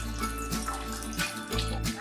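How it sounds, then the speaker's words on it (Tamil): Tamarind water is poured into mashed tomatoes while cooking tomato rasam, giving a continuous close splashing, gurgling pour with small uneven surges and no talking. "அதுல நம்ம புளி தண்ணியை விட்டுக்கலாம்."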